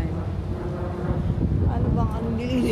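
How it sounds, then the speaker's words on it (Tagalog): Strong wind buffeting an outdoor microphone at an outlet mall in Japan, a constant low roar under someone talking. "Kasi naman, sobrang mahangin."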